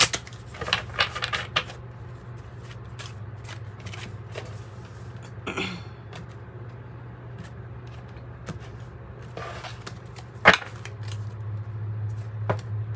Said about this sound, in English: And then we'll cut the deck too.